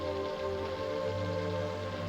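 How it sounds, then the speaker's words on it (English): Steady light rain falling on a surface, a soft even patter heard throughout, with no talking. "There might be a little rain right now."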